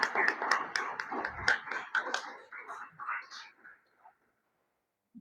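Audience applause at the close of a conference talk on democracy's challenges, a dense patter of clapping with some murmuring voices, fading out after about four seconds.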